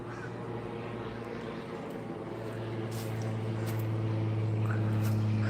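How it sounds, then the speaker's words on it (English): A small airplane drones overhead on a mountain road, a steady low hum with engine harmonics that swells gradually louder over the few seconds, with faint background noise and no talking. "There's the plane followed me all the way down the mountain."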